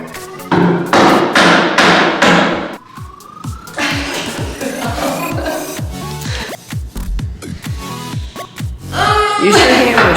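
Mallet pounding hardwood floor boards during a first-home renovation: a run of sharp, close thuds in uneven bursts, with voices talking over the work.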